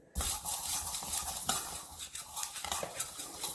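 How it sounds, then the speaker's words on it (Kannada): Chia seeds stirred with a spoon in a pan over a low flame, a steady scraping, rustling swish with a few sharper scrapes, close and continuous. "ಸಿಮ್ಮಲ್ಲಿ ಹುರ್ಕೋಬೇಕು ಇದನ್ನ."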